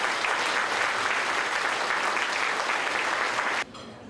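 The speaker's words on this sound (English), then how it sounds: "would you like to join me to give a round of applause again to the veterans?" Dinner audience at a Chinese military museum applauding veterans, dense sustained clapping from a large crowd that stops abruptly near the end.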